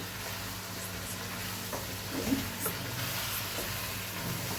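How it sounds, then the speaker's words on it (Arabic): Saffron-coloured chicken kabsa being stirred in a pot, with a soft continuous sizzle and a few faint scraping and clinking touches of the spoon midway, no talking. "اقلب بقى كله مع بعضه كده"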